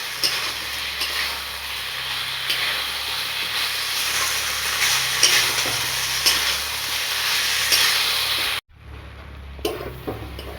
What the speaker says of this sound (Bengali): এবার এটাকে ভালোভাবে কষে নেব।